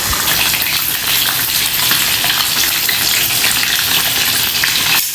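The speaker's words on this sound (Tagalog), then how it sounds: "Ngayon, ipiprito na natin siya." Pork belly liempo frying in very hot oil, a loud, dense, unbroken crackling sizzle heard up close for several seconds with no voices over it.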